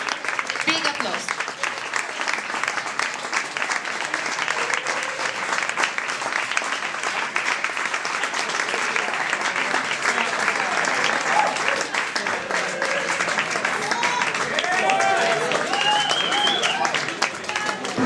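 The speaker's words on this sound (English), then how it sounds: "Big applause." Big round of audience applause at a World Cleanup Day award ceremony, sustained dense clapping throughout with some voices and faint cheering mixed in.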